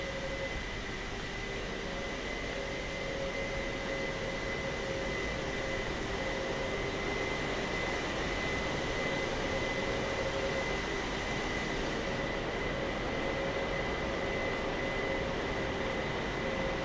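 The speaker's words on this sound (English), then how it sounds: "Flaps should be coming up. Yeah, there they go." Steady broadband roar of a Boeing 747-8F cargo jet rolling out after landing in Microsoft Flight Simulator, with faint tonal whines from the flaps retracting, continuous and moderately loud with no talking.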